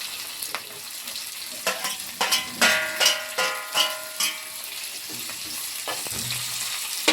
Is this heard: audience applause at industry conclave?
no